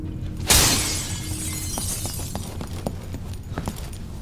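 Glass shatters in Dishonored 2: one sharp, loud crash followed by a scattered tinkle of falling shards over low game ambience.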